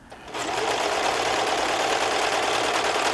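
A Brother serger runs steadily after a brief start, its fast mechanical whir and needle chatter continuous and close as it stitches a thread chain with no fabric.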